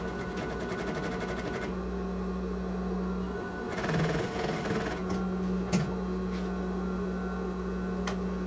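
A sewing machine stitches a zipper onto a toiletry bag, running in short bursts of close, rapid mechanical buzzing separated by pauses filled with a steady low hum.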